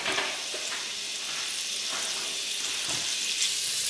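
Longaniza sausage frying in hot oil in a pot, a steady loud hiss and crackle of sizzling fat that runs without pause, with no voices.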